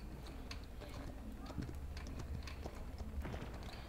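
Horse hooves clip-clop in a steady patter as a character mounts a horse in the video game Paladins, layered under busy game sounds and speech.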